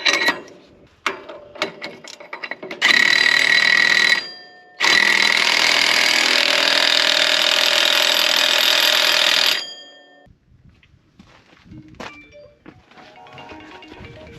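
A telephone bell rings loudly in two long bursts in a farm workshop where an air seeder is being rebuilt, with scattered clanks and thuds of tools before and after, no talk.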